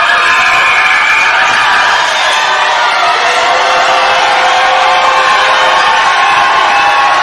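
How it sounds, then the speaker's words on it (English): A loud indoor crowd roars and cheers continuously at a men's under-20 basketball semi-final between Western Australia and South Australia, a dense wall of voices and whoops with no break. "The crowd is loud."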